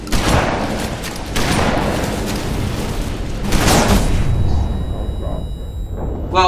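Repeated explosions in a Halo: Reach Firefight match, loud heavy booms and rumbling blasts rolling through continuous game noise, alone without talk.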